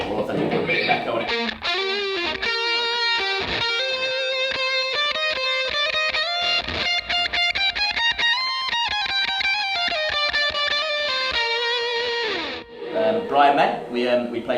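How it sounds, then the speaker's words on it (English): Distorted electric guitar plays a sustained melodic line with a repeating echo trailing each note, loud and close. "To make that a bit more authentic, put a bit of echo on it."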